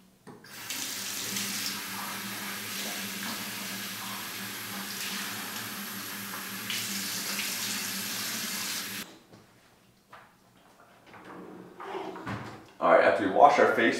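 A bathroom sink tap runs steadily for face washing, a loud continuous rush of water for about nine seconds, then stops, followed by faint handling noises and a brief clatter near the end.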